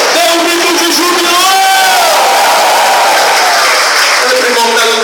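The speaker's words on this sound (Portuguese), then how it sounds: "E todo o teu coração dê um grito de júbilo." A church congregation erupts in loud, sustained cheering and joyful shouting with scattered whoops and voices, steady and dense throughout, with applause mixed in.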